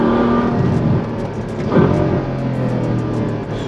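A Ferrari F12 Stallone Mansory with a naturally aspirated V12 accelerates hard, its steady loud engine roar and rising pitch heard from inside the car at speed, with no speech.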